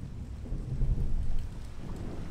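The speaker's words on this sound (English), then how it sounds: "Thunder is definitely looming, isn't it?" Thunder in the Skyrim Special Edition video game, a deep rolling rumble that swells midway over steady falling rain, continuous and moderately loud with no speech.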